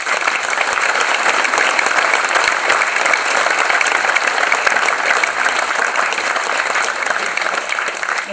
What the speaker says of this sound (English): Round of applause for Pat Rea.